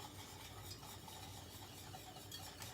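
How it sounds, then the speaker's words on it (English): Sugar and butter sauce being stirred in a pan for German pancakes, giving a continuous soft scraping stir with a faint sizzle underneath. It is quiet and close, with no voices. "I'm gonna get that sugar nice and melted with the butter."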